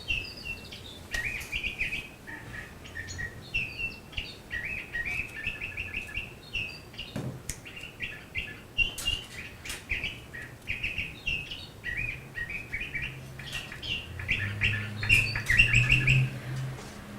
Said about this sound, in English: All these birds that we're listening to are recorded in northern Arizona and southern Colorado, mountain and foothill territory.